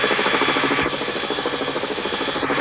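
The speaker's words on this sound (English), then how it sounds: "Time to fly my helicopter." A helicopter runs with a steady rhythmic rotor chop and engine whine, continuous and fairly loud throughout.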